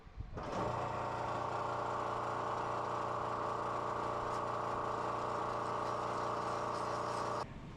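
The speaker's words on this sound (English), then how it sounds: "have some brass bushings that are just a little too small on the inner diameter for what I need. So I'll drill those out too." A workshop drilling machine boring out small brass bushings, running as a steady, loud motor whine with harmonic hum for several seconds before stopping.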